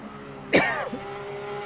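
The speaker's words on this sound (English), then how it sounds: "Sorry, still struggling with this cough today." A single loud throat-clearing cough bursts out close to the mic over a steady hum of a GT3 race car engine at Laguna Seca, followed by a faint second throat sound.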